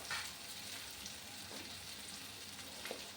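Chopped tomatoes sautéing in a pan for paneer bhurji give a steady close sizzle, with a few soft stirring scrapes rising briefly above the continuous frying hiss.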